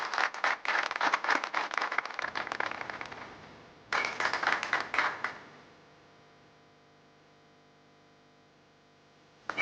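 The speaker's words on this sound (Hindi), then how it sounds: "तालियां।" A studio audience claps in a dense burst of applause, stops briefly, then gives a second shorter round before it fades into a lingering hum.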